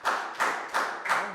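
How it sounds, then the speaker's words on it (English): Short bursts of hand clapping from a Year 3 maths classroom, four evenly spaced claps or small clap clusters, close and fairly loud with no voices. "Big round of applause for Pak Bung, guys"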